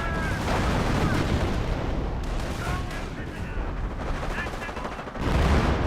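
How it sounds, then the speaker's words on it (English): Artillery shells and machine-gun fire in Company of Heroes, with artillery striking a machine-gun bunker: a dense, continuous barrage of loud blasts and rapid gunfire that swells again at the end. "Now got artillery hitting the machine gun bunker."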